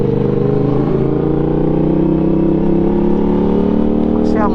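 An unrestricted 2021 Yamaha MT-07 motorcycle pulls hard in second gear with traction control off, its engine note climbing steadily in a loud, continuous rising drone heard up close from the rider's position.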